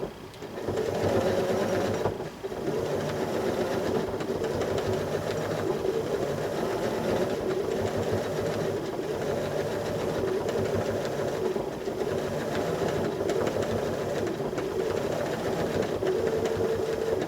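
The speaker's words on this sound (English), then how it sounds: "as I get close to the edges and hit those lines, I immediately slow down or even stop the machine." A foot-pedal-controlled sewing machine stitches quilting lines, running continuously with a fast rattling, chugging needle rhythm close up and easing off briefly once before resuming.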